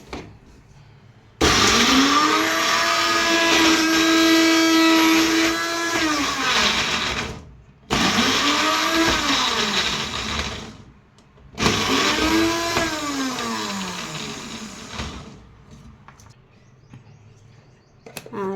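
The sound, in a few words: mixer grinder grinding green chillies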